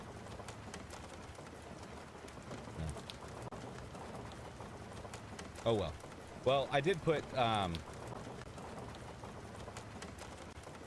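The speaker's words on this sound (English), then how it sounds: "okay, you can hear the rain now." Rain falling, a soft, steady patter in the background that runs the whole time, while a person talks briefly in the middle.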